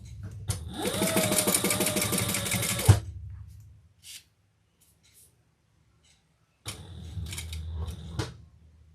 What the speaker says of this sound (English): we're going to just sew down the sides